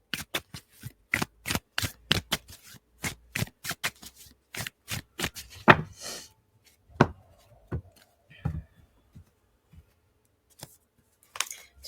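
A deck of tarot cards is shuffled in a rapid series of crisp riffles and taps, close and distinct, slowing to a few scattered flicks and handling sounds toward the end.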